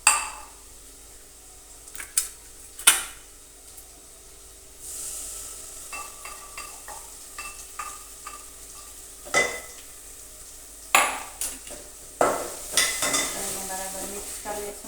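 A spoon scrapes and stirs chutney into dal in a pan on the stove, with repeated sharp clinks and scrapes against the metal over a faint background hiss and no talking.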